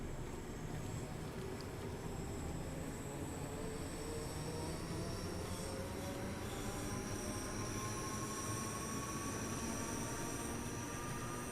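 Electric commuter train in Train Sim World 2 on the Cathcart Circle route near Glasgow, crossing a bridge, with a steady rolling rumble and drawn-out high wheel squeal ringing over it throughout.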